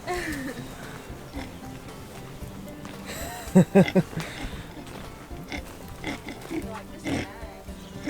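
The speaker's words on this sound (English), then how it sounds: "you can hear them oinking around" A few quick pig oinks and grunts burst out midway, close by, amid shuffling and rustling noises of hay in a pig hut, with people talking on and off.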